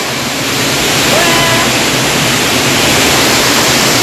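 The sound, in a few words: waterfall with lots of water after heavy rain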